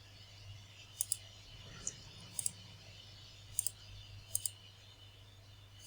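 Sharp mouse clicks on a computer, a handful of separate single and double taps spread out over a quiet background hum, fairly close and faint, with no one talking.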